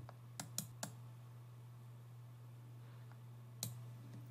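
Several sharp computer mouse clicks, as when clicking a filter icon in charting software: three quick clicks close together, then a longer pause and one more, over a steady low electrical hum.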